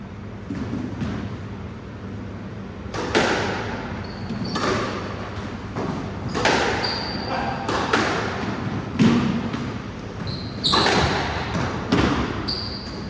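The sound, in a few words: squash ball being hit during a squash match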